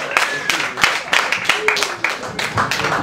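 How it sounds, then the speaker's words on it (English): A small open mic crowd claps for someone who just performed his first song; brisk, uneven hand claps come in close bursts for a few seconds, with voices mixed in. "Give him a round of applause"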